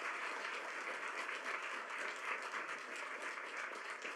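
An audience applauds at a school district's regular board meeting, steady continuous clapping from a crowd heard at a distance, fairly faint and even throughout with no speech over it.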